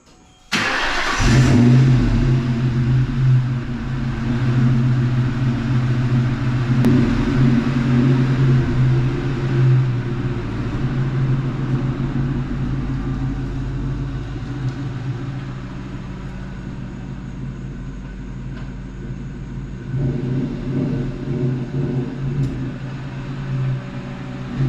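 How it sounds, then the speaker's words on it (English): A Ford Mustang fitted with a JLT cold air intake starts with a sharp burst, then runs with a steady low engine rumble as it is driven and moved, with a brief rise in revs near the end. "So I'm gonna go and move the car around."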